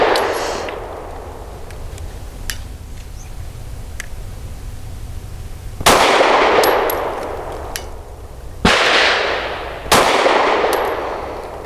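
An FMK 9C1 G2 pistol fires several sharp, loud reports on an outdoor range, irregularly spaced with ringing decays between them. No talk is heard.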